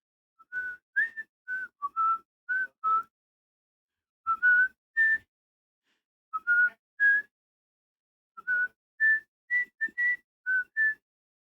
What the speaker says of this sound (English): does whistling sound bad on stream?